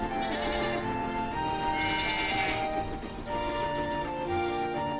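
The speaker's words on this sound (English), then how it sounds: "There are farms with goats." Cartoon goats bleat on a farm, with two drawn-out, wavering calls rising over a busy bed of farmyard and animal sound.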